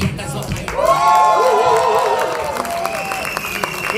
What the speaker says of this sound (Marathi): एकदा या सगळ्यांसाठी जोरदार टाळ्या.